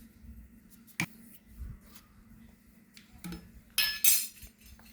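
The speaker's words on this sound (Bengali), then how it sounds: "এখানে প্রথমে চিনি দেব" A spoon drops sugar into a bowl while baking a cake at home, giving a few sharp isolated clinks and taps, then a brighter rattling scrape of metal on the bowl near the end.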